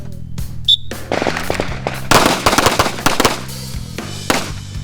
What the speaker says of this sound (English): You draw your weapon in close quarters position, you will fire 3 rounds, center mass.